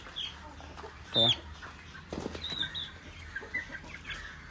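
A few clucks from chickens nearby, brief and scattered, with a louder squawk early on and soft background noise.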